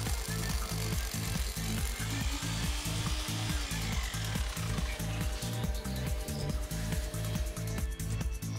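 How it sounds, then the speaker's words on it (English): A power drill bores an anchor bolt hole into a concrete floor while a Twin Busch TW 125 F1 single-post lift is installed, a steady close grinding roar with a regular pulsing hammer rhythm throughout, no voices. "Drill vertically and take care of the depth."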